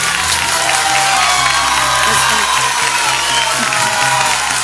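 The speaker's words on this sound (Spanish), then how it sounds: "¿Qué tal ovación?" Studio audience at a televised polygraph game show bursts into a sustained ovation, with dense applause and cheering holding steady at full volume for the whole stretch.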